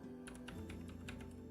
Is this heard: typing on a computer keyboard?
yes